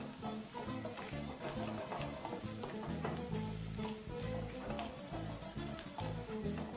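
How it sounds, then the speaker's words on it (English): Steady, dense sizzling of bacon frying in a pan, crackling and popping continuously at close range with no talking. "bacon is now been frying for about 4 minutes and it's now starting to brown"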